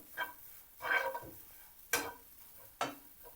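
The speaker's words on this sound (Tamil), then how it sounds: "இப்போ இங்கே பாருங்கள் இந்த தேங்காய் பூவும் ஈரத்தன்மை போகிற அளவுக்கு வறுத்தெடுத்தணும்" Grated coconut being dry-roasted in a pan for a dates laddu, giving short bursts of scraping stirring with a light sizzle, four separate strokes close by and no voices.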